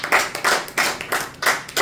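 A church congregation claps in a steady rhythm of about five loud, sharp hand-clap bursts, each roughly a third of a second apart, up close with no talking.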